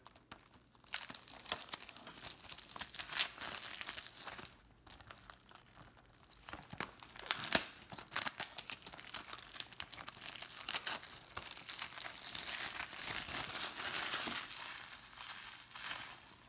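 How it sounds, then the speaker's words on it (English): Thin plastic film crinkles and tears as it is peeled off a Blu-ray case, a close, quiet run of irregular crackling rustles lasting several seconds. "let's unwrap it."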